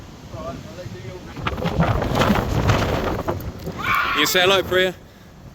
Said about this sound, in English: I'm well windy here. It's well windy.